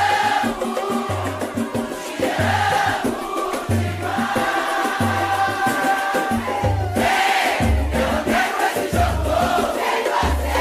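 Passionate Náutico football supporters roar in a stadium, a loud continuous crowd din with rhythmic chanting and steady low drum beats pulsing throughout, no distinct voices standing apart.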